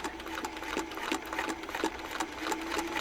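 A sewing machine stitches a quilt at a slow, even pace, its needle ticking in a regular rhythm over a soft mechanical whir that stays fairly quiet, with no voices.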